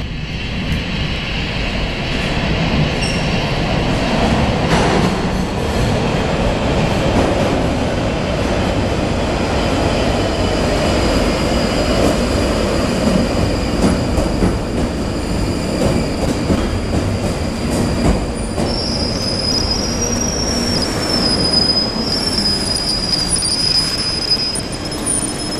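A London Underground train pulls into Tooting Bec station, its loud rumble filling the platform with rolling wheel noise and shrill squealing rising toward the end as it brakes to a stop.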